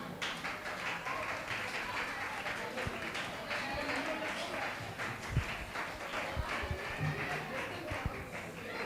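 A church audience at Zion Fort Church's final-day CBS 2024 program claps along, a dense, steady patter of many hands under continuous talking, with a few sharper knocks scattered through.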